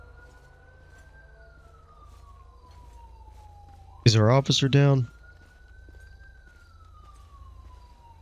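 An ambulance siren wails in the LSPDFR police video game, responding code 3 with a slow, steady rising and falling tone that continues throughout, briefly interrupted by a short burst of radio speech in the middle.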